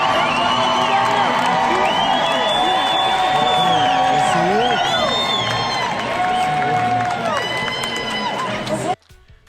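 Loud basketball crowd at a WNBA Liberty home game against the Fever, cheering, whooping and shouting continuously as a dense roar that fills the arena before cutting off abruptly at the end.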